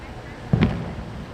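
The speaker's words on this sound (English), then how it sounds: "Are you hearing the booms? I keep hearing explosions." A single muffled boom like a distant explosion thuds once over low street ambience at night in Los Angeles.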